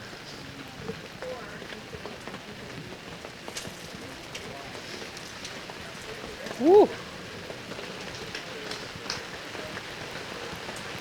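Rain falls steadily on an outdoor track field, a dense, even hiss throughout, with a brief voice calling out and crowd sounds in the background.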